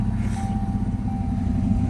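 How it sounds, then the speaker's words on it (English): A Saleen car's engine idles rough, a low, heavy rumble close by that holds steady with a faint tone riding above it and no voices. "It is idling rough. It's bouncing the whole freaking car around."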